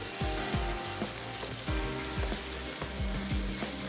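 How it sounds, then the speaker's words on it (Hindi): Grated coconut roasts in a pan for coconut halwa, sizzling steadily up close while a spoon scrapes and stirs in repeated strokes; nobody speaks. "खोपरा जो है वो अच्छा सा रोस्ट हो चुका है।"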